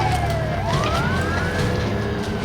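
A wailing police siren in a video game driving chase, sweeping up and down in pitch, loud and continuous over engine rumble.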